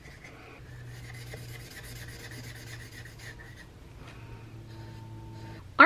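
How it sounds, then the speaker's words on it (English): Ohuhu brush marker chisel nib coloring on paper, a soft continuous scratchy rubbing of nib on paper in long even strokes, close and quiet over faint background hum, ending in a brief sharp knock. "I'm actually just going to go in with the chisel nib because it's going to be a little bit faster and more even coverage"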